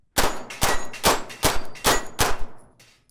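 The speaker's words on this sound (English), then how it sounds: "both pistols are perfectly capable of shooting the plate rack" Six sharp metallic clangs ring out at a steady pace as Shadow Systems pistol rounds strike a steel plate rack, each ping with a short ringing tail and the shots close together.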